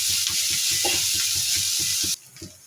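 Onion frying in a pan, a steady close sizzle with soft rhythmic stirring, then the sizzle drops away abruptly near the end.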